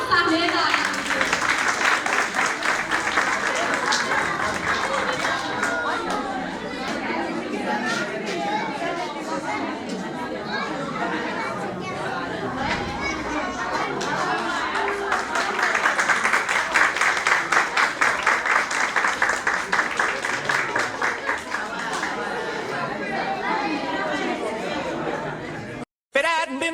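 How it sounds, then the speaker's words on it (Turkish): An audience at a kindergarten Mother's Day show in a school hall claps loudly and steadily to welcome small children onto the stage, with crowd chatter mixed in, before the applause cuts off abruptly at the end. "konvoylarımızı alkışlarınızla sahneye davet ediyoruz."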